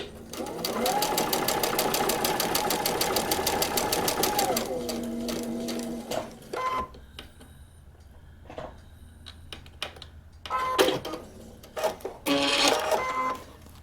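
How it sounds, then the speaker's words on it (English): A sewing machine stitches a paper-pieced quilt block in a steady, rapid, close run of stitches for several seconds. It then slows and stops, followed by handling clicks and soft bumps. "we're going to stitch between 2 and"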